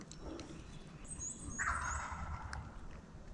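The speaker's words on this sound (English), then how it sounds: "his gobbles are right there" A wild turkey gobbler in the Alabama woods gobbles from a distance, one faint rattling gobble that rises and falls over soft outdoor ambience.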